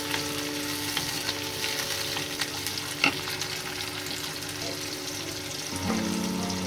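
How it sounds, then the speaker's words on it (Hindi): Medium onion and tomato frying in a pan as a spoon stirs them, giving a steady, close sizzle with a sharp metallic clink near the middle and a louder scrape near the end, and nobody speaking. "तो इसे अब फ्राई करना है कि टमाटर भी सॉफ्ट हो जाए।"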